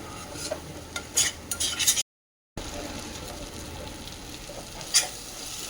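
Spice masala mixed with gram flour sautés in a pan for Kashmiri paneer, giving a low sizzle with intermittent spatula scrapes and clinks and a brief gap of silence partway through, with no speech.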